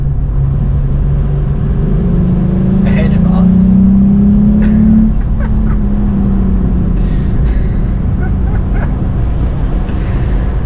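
A VW Up GTI small hatchback drives along with a steady engine drone and road rumble, the engine note rising briefly as it accelerates midway, with someone talking over it throughout.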